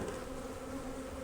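Dense, steady hum of a heavily populated honey bee hive in cold winter, a continuous low drone held at an even level without breaks.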